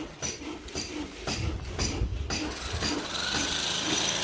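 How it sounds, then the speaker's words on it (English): Workers smoothing a concrete floor on a house construction site in the Philippines, giving steady rasping, scraping strokes with rhythmic pulses, fairly close and continuous, with no talk. "the guys are making some progress with the smoothing out of the floor"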